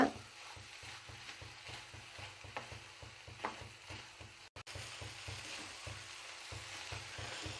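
Egg and coconut masala stirred and fried in a pan, a low steady sizzle under regular scraping strokes of a spatula against the pan, fairly quiet and close with no talk.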